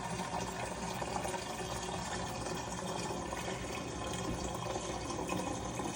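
Filtered tap water runs into a beer brewing vessel, a faint, steady pouring wash with no breaks, quiet and continuous throughout.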